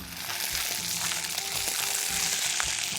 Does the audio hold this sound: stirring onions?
yes